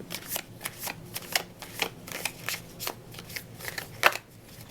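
A tarot deck is shuffled close up in quick, rhythmic riffles, each a brief papery burst, repeated about a dozen times with slight pauses between.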